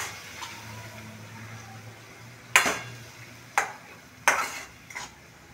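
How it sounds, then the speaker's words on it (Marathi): A tomato-onion puree sautéing in oil, with a soft, steady sizzle and a few sharp scrapes of a spoon against the pan. "आता ही आपल्याला छान तेल सुटेपर्यंत परतून घ्यायची आहे."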